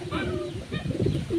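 A young pigeon bred from a German pigeon, kept with clipped feathers, gives soft, close throaty coos in a short run of repeated phrases.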